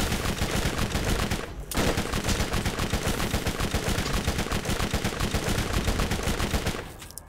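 Sustained rapid automatic gunfire in a shooter video game, loud and dense with continuous bursts, a brief break near the start and a fade at the end, no voices.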